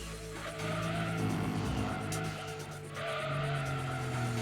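A Toyota Supra in Gran Turismo 2 squeals its tires in a long tailspin skid, the engine droning loudly underneath with a brief dip midway before the screech resumes.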